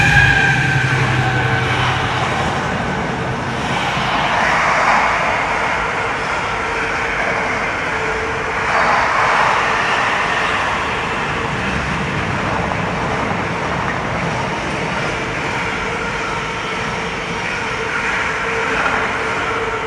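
A Class 70 diesel locomotive train passes through a noisy city, a steady broad rumble with rail noise holding for about twenty seconds, swelling slightly at moments, no voices.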